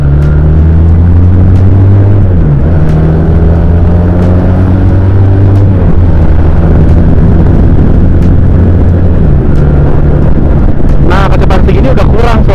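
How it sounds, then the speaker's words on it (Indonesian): A Benelli Patagonian Eagle 250 motorcycle revs its exhaust under a bridge, a loud, steady deep engine drone with rising and falling pitch through most of the stretch, ending in a brief burst of higher sound near the end. "Coba di bawah jembatan gini kedengaran nggak suara gedenya ya? Ada letupan-letupan itu."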